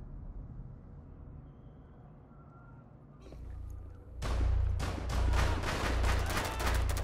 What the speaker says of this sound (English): Oh, their other team is shooting.